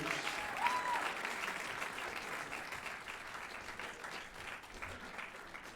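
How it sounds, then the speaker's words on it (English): Concert audience applauding a secondary school band at a music festival in Rotorua, a steady, dense wash of many hands clapping that holds at an even level throughout, with no voices over it. "Let's give a round of applause for Como Secondary College."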